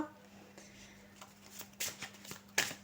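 Quiet handling of tarot cards, with soft papery rustles and a few light slaps as a card is drawn and laid down, under a low steady hum.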